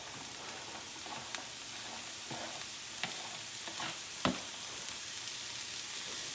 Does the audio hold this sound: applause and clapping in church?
no